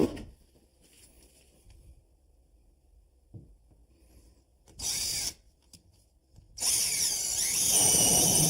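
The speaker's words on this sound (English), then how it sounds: "I want to just transfer those measurements and drill my holes." A power drill bores holes into a bathroom wall in two bursts, a short whine and then a longer, louder grinding run, with quiet handling noises in the pauses between them.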